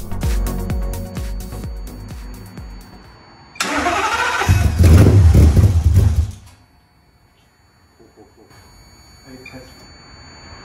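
A Ford 4V V10 engine cranks in rapid rhythmic bursts, then fires on the first attempt and roars loudly up close before settling into a quieter idle. Voices are heard near the start.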